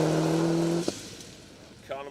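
A Subaru rally car on a Welsh Rally Championship stage, its steady engine drone holding strong then cutting off abruptly, followed by a voice speaking.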